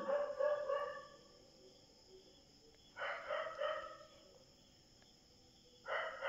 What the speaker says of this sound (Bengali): ওনাদেরই এই সব মুরগি।